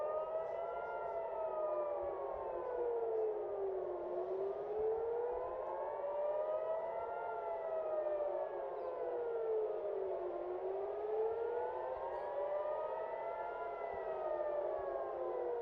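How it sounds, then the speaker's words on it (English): A wailing civil defense siren over Tel Aviv rises and falls in long, slow sweeps, loud and steady throughout with no voices. "This is the 4th time in the last 50 minutes we have heard sirens over Tel Aviv"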